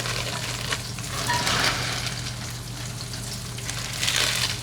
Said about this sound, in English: riced cauliflower into that. Get a little saute going